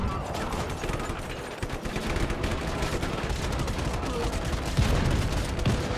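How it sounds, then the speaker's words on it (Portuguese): Dense, continuous gunfire and explosions from the Just Cause 3 video game, heavy blasts mixed with rapid automatic firing and booms at the start of play, loud and unbroken throughout, with a tank and cannon in the action. "é muita explosão pra um começo de jogo"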